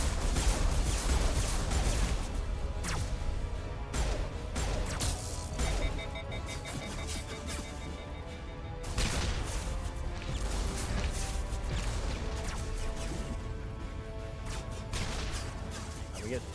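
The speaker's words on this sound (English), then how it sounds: "We get explosions to win it in the end." Explosions and gunfire from the video game Mass Effect, a dense, continuous barrage of loud blasts, crashes and shots that stays steady for the whole stretch, with a brief dip near the middle.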